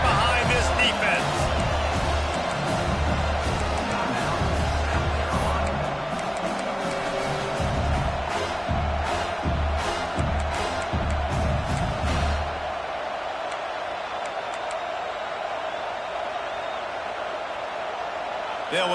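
A college football video game crowd roars in the stadium during a big third-down defensive stand, a dense wall of cheering with thumping beats under a play-by-play commentator's voice, fading noticeably toward the end.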